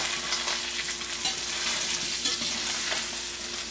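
A salmon fillet frying in butter in a pan, with a loud, continuous close-up sizzle and spatter and faint stirring or scraping sounds, no voices.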